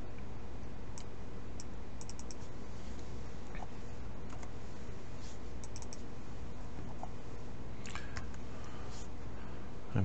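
Fast typing on a mushy computer keyboard, soft clustered key clicks running steadily for ten seconds over a constant low hum, with no talking.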